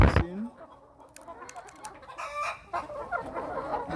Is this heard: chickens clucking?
yes